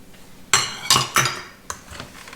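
A spatula scrapes and knocks against a bowl in several sharp clinks and scrapes, nuts being emptied into cookie dough, close and clear with no talk.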